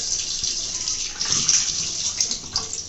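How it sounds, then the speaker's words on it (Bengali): Tap water runs in a steady, close hiss as fish are washed, with slight splashing variations and no talking. "দেখো মাছগুলো এবার আমি ধুয়ে নেব"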